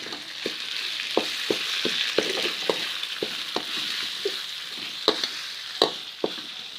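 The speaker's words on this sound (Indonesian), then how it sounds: "Tumis sampai harum." Lemongrass, bay leaves and galangal sizzle steadily in hot oil for an opor ayam spice base, with a continuous frying hiss broken by a dozen or so sharp clicks and scrapes of a spatula stirring the pan.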